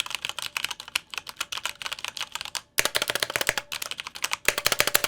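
Typing on an expensive mechanical keyboard with lubricated MX Red switches gives a fast, steady run of crisp, close key clicks, broken by a brief pause partway through before resuming, with no talking.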